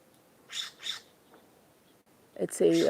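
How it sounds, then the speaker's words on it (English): Two harsh, raspy scrub jay calls ring out close by from a tree, followed after a pause by a louder burst of squawking. "scrub jay. It's right in the tree right there."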